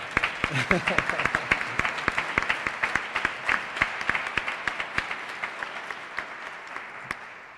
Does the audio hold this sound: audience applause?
yes